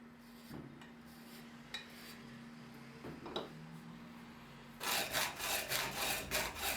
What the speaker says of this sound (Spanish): Termino las caras y los lados usando un cepillo alisador y remato todos los bordes filosos.